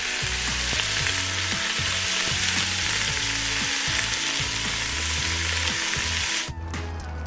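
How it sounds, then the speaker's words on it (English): Stewing beef sizzles and fries steadily in a cast iron Dutch oven, a loud continuous crackle with rhythmic low clunks, close up and without talk, ending in a brief clatter. "This is stewing beef. I'm just going to add it to the pot. I'm just going to get this brown on all sides."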